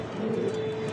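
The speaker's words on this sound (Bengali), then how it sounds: "জার্মান বিউটি মা কবুতর দেখতে পাচ্ছেন" German Beauty Homer pigeons coo softly in a short, low, murmuring phrase, heard faintly at a quiet level.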